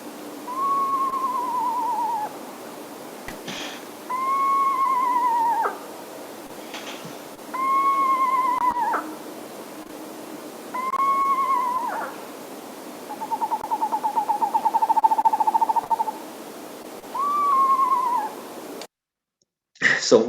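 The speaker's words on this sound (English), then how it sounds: "we'll hear the whinny calls first, and then it'll change into that monotone tremolo towards the end" An owl gives repeated descending whinny calls, evenly spaced and fairly clear against a quiet background, then shifts to a steady monotone tremolo before more whinnies.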